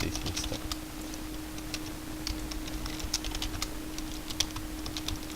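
A command being typed on a computer keyboard: quick, light, uneven key clicks up close over a steady low electrical hum, with no talking.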